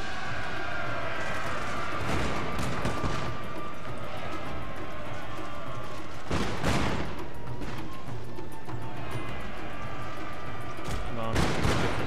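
Massed troops fire at will in the video game Shogun 2 Total War, giving dense, continuous battle noise with bursts of volleyed gunfire and heavier blasts standing out, all fairly loud.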